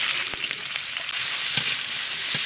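Onions sizzle in a little oil in a wok as a spatula stirs them, a steady close frying hiss broken by a few soft scraping knocks, with no voices.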